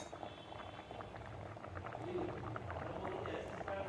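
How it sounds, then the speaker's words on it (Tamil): Mor kuzhambu (buttermilk curry) simmers in a pot on the stove, with faint, continuous soft bubbling that grows slightly louder partway through. "இப்போ பார்க்கலாம் நல்லா கொதித்து வந்துருச்சு பாருங்கள்"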